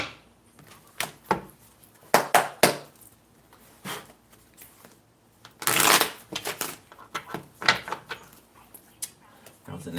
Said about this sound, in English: That was a nasty shuffle.